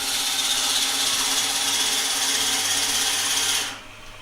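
A very large Forstner bit bores into wood on a woodturning lathe, giving a loud, steady, close whirring grind that holds evenly for several seconds before abruptly dropping away near the end.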